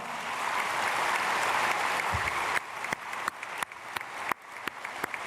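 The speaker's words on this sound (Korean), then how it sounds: "우리 크게 박수로 환영하겠습니다." A church congregation applauds to welcome newcomers at a Sunday service, first a dense sustained wash of clapping from many people, then thinning into scattered individual claps as it dies away.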